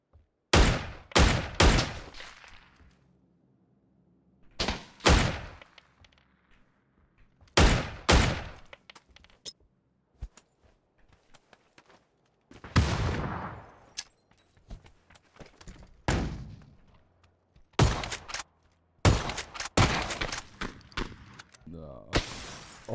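Dragunov sniper rifle fire in PUBG, a series of sharp loud cracks in clustered bursts of two or three with short gaps, each shot trailing a brief echo, spread across the stretch with quiet pauses between volleys.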